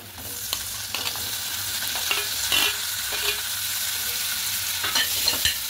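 Chopped onion and capsicum fry in a spoonful of butter in a small pan, giving a steady close sizzle with scraping stir strokes scattered throughout and no talking.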